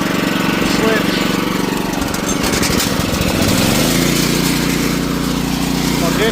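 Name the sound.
small gasoline engine started to agitate crop sprayer tank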